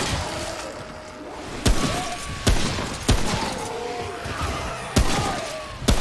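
Gunfire in the video game Remnant: about five sharp, loud shots at irregular intervals, each with a short crashing decay, over a low ambient rumble with no talking.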